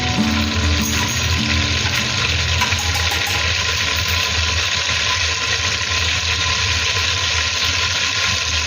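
Butter melting and sizzling in a pan with oil for pav bhaji, a steady loud frying hiss running throughout under a low constant hum, no talk.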